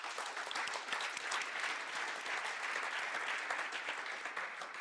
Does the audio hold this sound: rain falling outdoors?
no